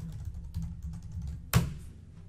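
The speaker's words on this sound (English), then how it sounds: "and type in Morningstar" Typing on a computer keyboard: a run of quick, soft key taps close by, ending in one sharper, louder keystroke like a final enter press, with no voices.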